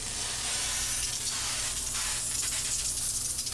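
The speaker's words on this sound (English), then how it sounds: "So now I'm going for some steam." Steam hissing from a steamer needle pushed into the neck joint of a parlor guitar during a neck reset, a continuous soft, airy hiss that stays even and fairly quiet throughout, with no talking.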